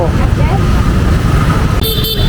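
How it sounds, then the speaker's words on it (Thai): Near the end, a short double honk of a car horn sounds over loud, steady street traffic noise in Hanoi, Vietnam, and a voice talking nearby. "เสียงแตร"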